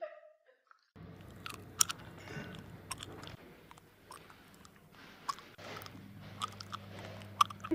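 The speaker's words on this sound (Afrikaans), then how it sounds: "Sit net en kou asseblief." Close, moist chewing with irregular crunchy bites and soft squishes from someone eating, steady over a faint background hum, no talking.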